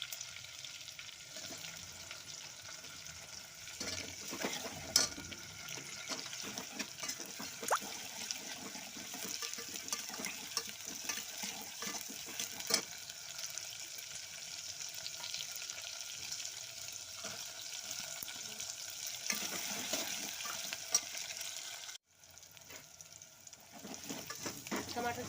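Green tomatoes fry with a garlic and cumin paste, cumin seeds and mustard seeds, giving a continuous close sizzle with occasional stirring clatter and one sudden break near the end.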